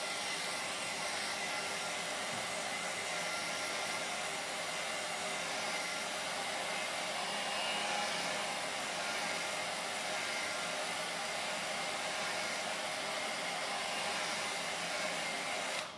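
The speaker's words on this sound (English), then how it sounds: "Just going to tickle that with the hairdryer." A hair dryer blows steadily and continuously at close range over an ink landscape painting, a constant airy whoosh with no breaks or talk.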